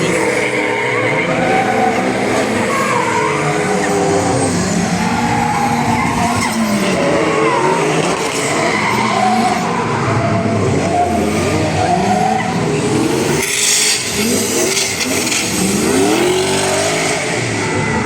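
Race car tires skid and squeal at speed while the engine roars and revs, loud and continuous throughout with sweeping pitch changes.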